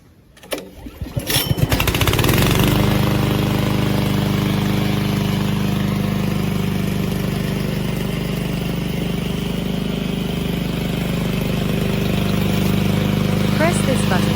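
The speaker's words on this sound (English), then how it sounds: "Use the button on the control panel to start the engine." A VTC550-90 remote control lawn mower engine catches after a few sputtering turns, then runs at a loud, steady, rumbling idle close by.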